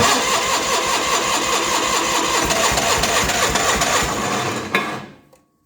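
A John Deere 420 gasoline tractor engine in a hard cold start, sputtering then running with loud, close, uneven chugging for several seconds before cutting off abruptly into silence.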